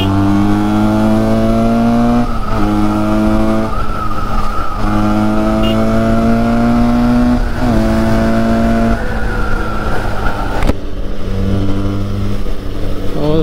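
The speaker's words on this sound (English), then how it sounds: "Bike sounds really awesome in this uphill." A Benelli 302R 300cc sports motorcycle engine climbing a hill on a two-way road, its loud buzzing note rising through the revs and dropping at several gear shifts, close and continuous.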